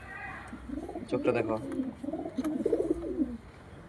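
A pigeon, a red female bird held up for sale, gives soft low coos close by while someone talks over it.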